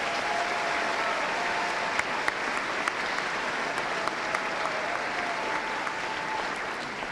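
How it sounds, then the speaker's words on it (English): Sustained applause from the audience after a student all-county band concert, an even, continuous wash of clapping in a large hall, a few sharper individual claps standing out and faint tonal sounds underneath. "Let's give another round of applause to these kids."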